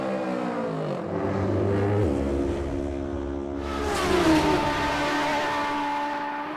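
Michael Dunlop's number six MD Racing motorcycle screams through Isle of Man TT qualifying, its engine note rising and shifting through gears, loud and close, as the machine passes.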